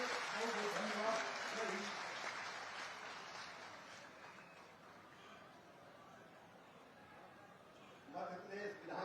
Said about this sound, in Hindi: जोरदार ताली बजा करके नाम शिवराज जी का स्वागत कीजिए।